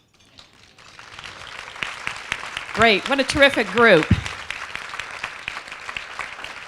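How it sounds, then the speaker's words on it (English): Applause for mentors and mentees at a women's leadership conversation event rises steadily as a crowd claps, and someone speaks over the clapping partway through before it continues. "we'll give you a round of applause when you all stand"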